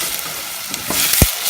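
Garlic sizzling and frying in a pan for fresh tomato sauce, a steady close hiss with a few stirring knocks, loud and continuous.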